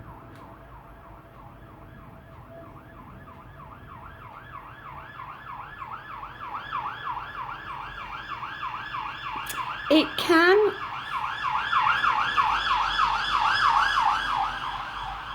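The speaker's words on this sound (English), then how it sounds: "Sorry, that's a police car just whizzing past." A police car siren wails past, its rising and falling tone growing louder as the vehicle nears, with a brief sharp burst midway and a short spoken word at the start.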